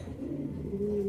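Pigeons cooing in a loft for adult racing birds, a steady low throaty murmur close by that swells slightly toward the end, with no talk over it.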